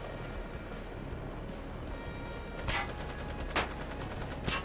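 Automated gunners fire in a video game, with three short bursts of gunfire standing out over a steady, low background rumble; the shots sound somewhat distant and fairly faint.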